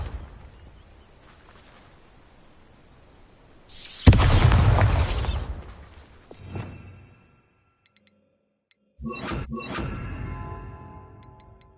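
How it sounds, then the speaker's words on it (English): Bombarda spell explosion in Hogwarts Legacy, a sudden loud blast that rumbles and fades over a couple of seconds, followed by quieter magical crackles and later clattering bursts. "Bombarda"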